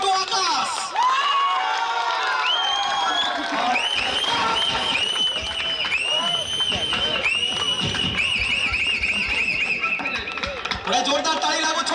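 A crowd at a cricket final's man of the match award applauds and cheers loudly, with shrill whistles and shouts running through the whole stretch while a voice talks over it.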